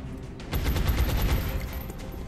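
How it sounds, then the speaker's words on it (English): Light machine gun fire in XCOM: Enemy Within Long War, a single sustained burst of rapid rattling shots lasting under two seconds, loud and close with no talk. "Let's take our LMG shot at the one that's not wounded"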